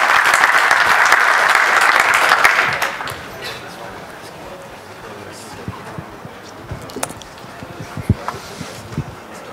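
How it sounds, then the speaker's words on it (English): Applause from a FOSDEM 2014 conference audience greets a speaker, a dense burst of clapping for about three seconds that fades into scattered claps, faint shuffling and room noise. "Let's applaud him."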